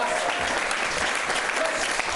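Audience applause at an improv theater show, a dense, steady burst of clapping from a live crowd, loud and close throughout with no talking over it.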